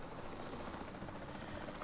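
A helicopter in Jurassic World Evolution 2 flies with a steady, faint, continuous rotor drone and no other sounds.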